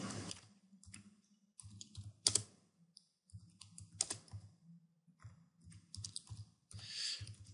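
Typing text on a computer keyboard in geometry software, with clusters of quick keystrokes and short pauses, close and fairly quiet, no voices.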